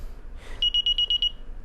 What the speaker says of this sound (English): So when you hear this panel beep